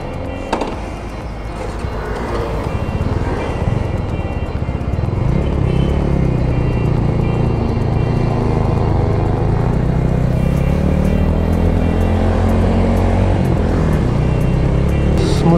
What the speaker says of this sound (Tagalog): this is our first ride impression of the Motorstar Cafe 150